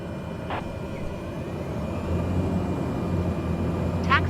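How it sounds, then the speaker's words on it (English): A Cessna light aircraft taxis on the ground toward general aviation parking at Palmerston North airport, its engine a steady low drone close by, with two faint radio chirps. "Taxiing to general aviation parking via taxiway Charlie Alpha jet 201"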